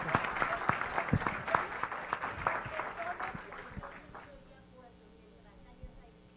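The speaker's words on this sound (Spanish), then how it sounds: "un aplauso a todas las reintegradoras que están allá atrás" Applause at a Colombian reintegration agency accountability event, honoring the women reintegration workers seated at the back; a crowd claps loudly for about four seconds with talk mixed in, then fades to quiet.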